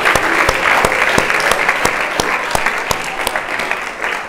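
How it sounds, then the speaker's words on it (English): An audience applauding at a lecture, a steady, full round of clapping with sharp individual claps standing out in an even rhythm near the listener, continuing without talk. "if we can all just take a moment for a round of applause for Michael Gallant."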